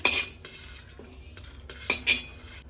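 Fried fish is lifted from a pan onto a plate with sharp metal scrapes and clinks of a utensil on cookware, heard close in short bursts.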